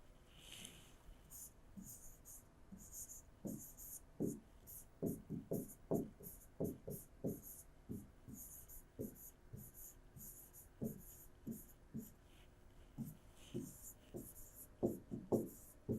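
A pen writing by hand on paper in a quiet room, with a long run of soft, irregular scratching strokes broken by short pauses while a teacher speaks quietly at times.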